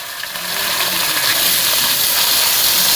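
Chicken frying in a pan with browned ginger-garlic paste, a loud continuous close sizzle and hiss that swells after the first half second and holds steady.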